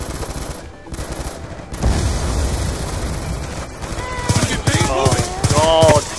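Black Ops 2 gunfire plays in a video game, with a steady rattle of shots and rumbling bursts running throughout while people talk over it loudly.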